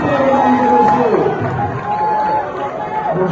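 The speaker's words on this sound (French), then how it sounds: "vos applaudissements s'il vous plaît, mesdames et messieurs" A crowd of schoolchildren and adults at a school event in Kinshasa cheers and shouts steadily, a loud, dense roar with voices and whoops mixed through it.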